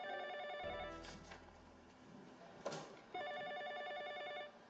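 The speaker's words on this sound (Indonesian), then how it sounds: "Lin Zong terima telepon juga kerjaan sekretaris kan" An electronic telephone ringtone plays in repeating bursts, fairly quiet, broken briefly by a few soft knocks and handling sounds before it sounds again.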